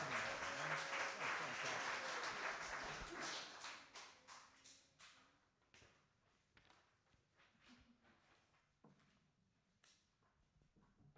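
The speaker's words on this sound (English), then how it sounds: "Everyone give Henry a round of applause" Recital audience at a music school's winter concert claps for a young performer: a full burst of applause for about four seconds, then thinning into scattered, fading claps.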